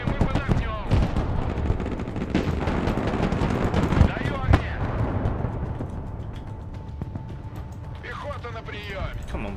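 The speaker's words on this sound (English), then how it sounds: "Artillery smoke." Artillery firing smoke rounds in the real-time strategy game Broken Arrow, a dense run of booming shots and rumbling impacts through the whole stretch, with voices talking over the barrage.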